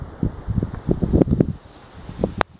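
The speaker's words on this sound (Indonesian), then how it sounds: "Angin kenceng." A strong wind rustles leaves near a roadside shelter during light rain, in uneven gusting bursts that swell and fade, with a sharper crackle just before the end.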